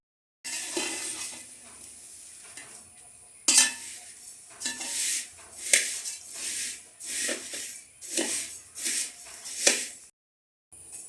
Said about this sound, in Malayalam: ഇതിലേക്ക് നമുക്ക് അവിൽ വറുത്തെടുക്കാം